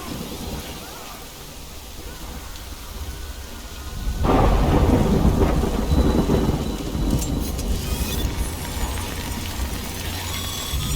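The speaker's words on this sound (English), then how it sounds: "Good thing it was raining." Heavy rain with rolling thunder in the video game Death Stranding, a steady downpour that swells into a loud, close roar midway and stays dense to the end.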